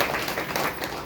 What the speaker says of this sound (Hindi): वेरी गुड, ताली बजाओ भाई संतोष माता